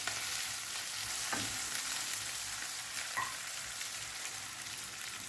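Tomato and shredded chicken frying in a pan, a steady broadband sizzle throughout with a couple of faint stirring scrapes, no voices.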